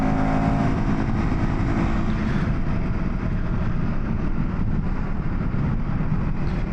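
The engine of a KTM 390 Adventure R motorcycle drones in gear with steady, dense, close noise and no clear rises or breaks.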